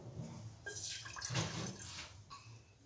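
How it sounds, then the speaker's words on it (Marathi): A cup of water is poured into a pan for jaggery tea, a short close splashing pour that swells and then trails off, quiet and without speech. "यामध्ये एक कप पाणी टाकणार आहोत"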